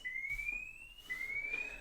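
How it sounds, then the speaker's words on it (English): A Homematic IP home security alarm siren wails in two rising sweeps, a steady high-pitched electronic tone climbing in pitch, moderately loud with no voices. "the alarm siren is starting too"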